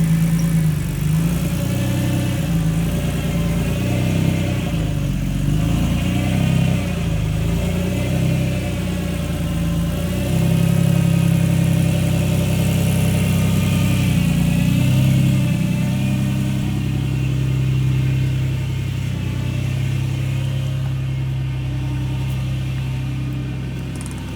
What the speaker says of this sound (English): it's obviously a pretty exotic V12 Lamborghini. Look at the back of this beast. So wide. Oh, listen to that.